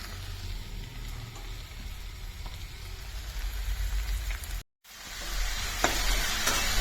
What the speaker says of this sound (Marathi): आता मेथी ही छान अशी हलवून मस्त शिजवून घ्यायची आहे